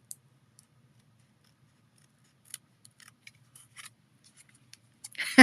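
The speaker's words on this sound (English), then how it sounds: "You take your scissors and you're going to round this little section." Scissors snip paper while rounding off a small section, leaving scattered faint, sparse clicks in near silence before a louder, closer cutting rustle at the end.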